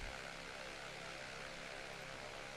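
Piston airplane engine in Microsoft Flight Simulator, running rough with damage and popping, a steady dense drone throughout with no talk.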